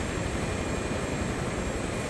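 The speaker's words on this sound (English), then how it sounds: "All that sound you hear is every helicopter but mine." Helicopter engines and rotors in Microsoft Flight Simulator 2024, with many other aircraft running at once, including a Hiller UH-12B group. They form a steady, dense, loud drone that continues unbroken with no talk.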